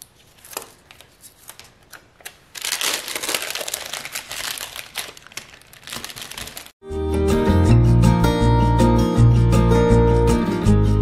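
Packaging paper being folded over a bar of handmade soap: loud crinkling and rustling for several seconds, then background music takes over.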